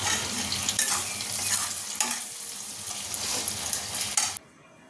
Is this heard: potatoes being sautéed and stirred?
yes